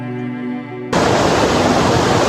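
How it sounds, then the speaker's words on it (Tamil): A waterfall swollen by heavy rain roars in flood, a dense, loud, continuous rush that starts abruptly after a brief quieter hum and fills the rest of the clip. "அருவி தெரியுதா சரியான மழை பெஞ்சதுனால வெள்ளம் மாதிரி வந்துகிட்டு இருக்கு"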